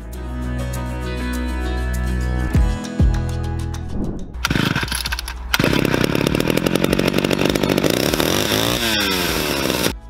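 A 1960s Bow Pan 361 chainsaw with a heavy engine sputters and pulls over, then catches and runs loudly at high, buzzing revs, the engine note steady and close with slight rhythmic surging.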